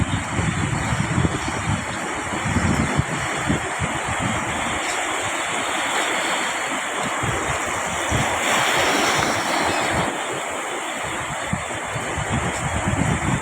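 Ocean waves wash onto the shore in a continuous broadband roar, with swells rising and falling and wind buffeting the microphone throughout; no voices.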